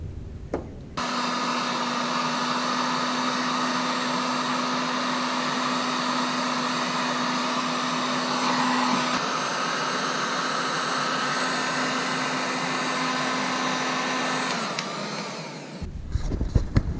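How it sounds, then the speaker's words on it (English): A heat gun blows with a steady, loud whoosh and hum for about fifteen seconds while shrinking 3-inch Panduit high-voltage heat shrink tubing during assembly of a 6.5HP PPF Wood Duck, switching off near the end. "got a heat gun here. We're gonna give her a go."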